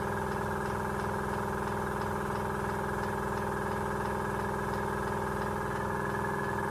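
A FENGDA AS-186 airbrush compressor running as it fills its receiver tank, a steady, close motor drone with an even, rapid pulsing rhythm that stays constant throughout.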